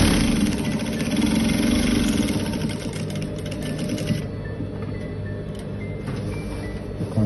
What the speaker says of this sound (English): So top stitch about 1/8 inch from the edge of the placket.